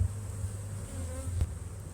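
Honeybees buzz around an open beehive, a dense, steady droning hum heard up close with a few louder passes.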